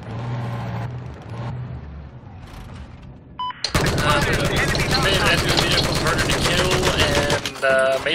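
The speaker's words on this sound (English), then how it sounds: "Heads up! Enemy machine gunner west of your location!" Machine gun fire in the Battlefield 4 video game on a Zavod 311 conquest map, loud sustained bursts erupting midway over a busy battle mix of engines and distant gunfire, close and dense.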